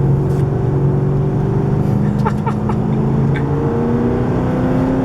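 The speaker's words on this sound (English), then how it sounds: "I'm in a SS Commodore, which is driven by my mate Alex." A Holden SS Commodore accelerates from inside the cabin with a loud, steady engine roar whose pitch climbs through gear changes, plus a few faint clicks and rattles.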